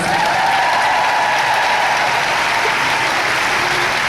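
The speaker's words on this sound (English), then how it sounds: "give her a round of applause" Dense, steady applause from an audience honouring a senior director, loud and continuous throughout with no talk over it.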